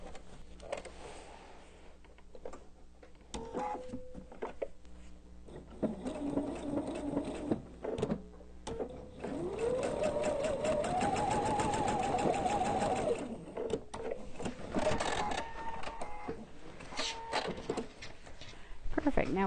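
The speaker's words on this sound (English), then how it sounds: "Sew it." A sewing machine stitches the binding on a self-binding fabric placemat, running in steady mechanical bursts that build into a long continuous whir mid-clip, with brief pauses and a voice speaking softly at times.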